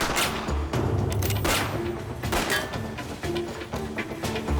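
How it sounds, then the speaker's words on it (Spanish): Gunshots crack in quick succession during an exchange of gunfire near a car, several sharp bursts over a steady noisy background, with no talking. "Hubo un intercambio de disparos."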